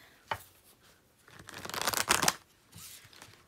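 Tarot cards are shuffled up close, a sharp snap followed by a quick riffling flutter and a softer shuffle at the end.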